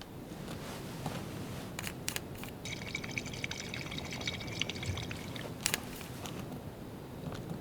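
Canteens refilled with water in Life is Strange 2, a steady pouring trickle with a brighter filling stretch in the middle, scattered clicks and handling taps over it.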